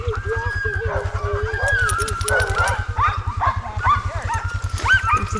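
Several sled-dog puppies in Alaska yip and whine excitedly in overlapping bursts, close and loud over a steady low rumble.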